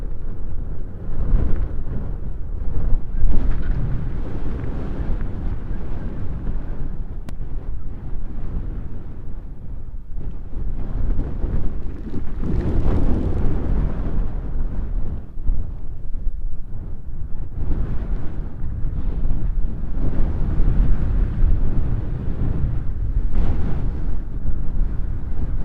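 Strong wind gusting across open bush country where a giraffe herd shelters, a loud continuous low roar buffeting the microphone with surging gusts throughout.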